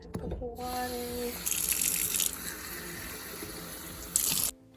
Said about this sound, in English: I just have a random plastic cup here, and I'm gonna fill it up with water.